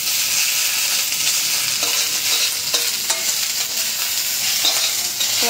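Pointed gourd peels fry in oil in a village kitchen, giving a dense, constant sizzle with occasional stirring scrapes and clicks, close and loud, with no talking.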